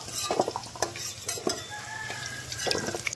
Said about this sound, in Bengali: আলুটা ভাজা হয়ে গিয়েছে, তুলে নেব।